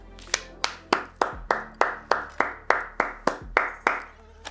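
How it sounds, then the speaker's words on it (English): Rhythmic, evenly spaced hand claps, about fourteen sharp strikes in steady tempo, close and clear over a low background hum, closing a South African football talk show. "Simply no words, just an applause."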